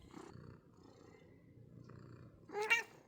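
A cat vocalizes close by with a short, loud burst near the end, after a stretch of low, soft rumbling.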